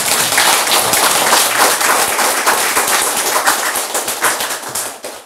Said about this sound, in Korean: 여기 앉아 계시는 국회의원들한테 큰 박수 한번 보내드리자